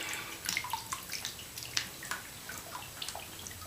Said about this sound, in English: Oh yeah, I can hear the water in there.